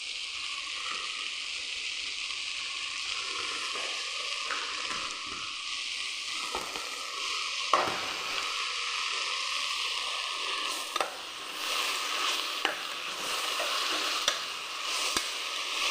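Chopped onion sautéed with shallots, tomato, ginger, garlic and green chilli sizzles steadily in a hot pan for crab roast, a continuous close frying hiss broken by a few soft stirring scrapes.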